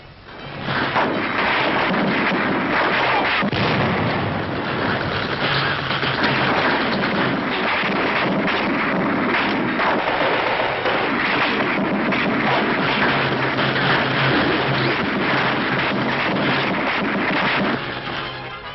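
Continuous heavy rumbling blasts of WWII artillery fire striking a German tank near Cologne, a dense, loud barrage of booms and crashes that fills the whole stretch without any talk.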